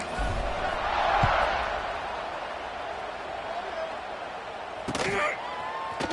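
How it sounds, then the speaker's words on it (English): Stadium crowd in a college football video game buzzing with a steady, broad roar after a score, rising slightly early on, with a brief sharper burst near the end. "this crowd is buzzing after that last score"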